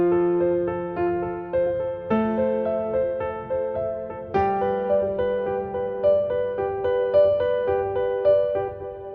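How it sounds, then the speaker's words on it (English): A keyboard in Ableton Live plays a held root note in the left hand under a steady arpeggiated right-hand melody, with the bass note changing about every two seconds; clean, moderate level, no voices. "I'll play an arpeggiated melody with my right hand, which will sound like this."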